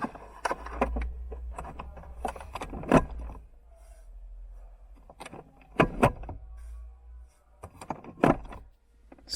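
A Volvo V60's detachable traditional key being worked into the emergency gearbox release: bursts of close metallic jangling and sharp clicks separated by quiet gaps, with a faint low hum underneath.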